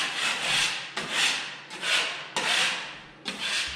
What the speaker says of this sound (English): I don't want to make a lot of dust for this video, so I'm just going to scrape it.